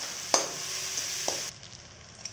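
Spice masala frying in oil in a pan as it is stirred, a close steady sizzle with a couple of sharp scrapes, dropping quieter near the end.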